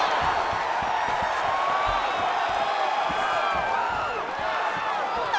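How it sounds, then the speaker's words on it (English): An arena crowd in the fighting game UFC 5 roars and whoops steadily through a mixed martial arts bout, a constant wash of cheering with scattered thuds beneath it. "the crowd is loving it. The crowd's going crazy"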